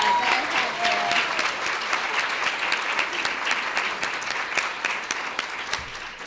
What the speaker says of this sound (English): I want everyone to give an applause for these speakers today.